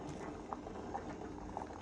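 Sour curry broth with fresh mackerel is poured over fried cha-om in a bowl, a soft continuous liquid splashing and bubbling with faint patter, close and quiet.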